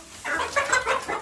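Dongtao hens of the blue wheaten-gold colour cluck nearby in a series of short, close, repeated calls.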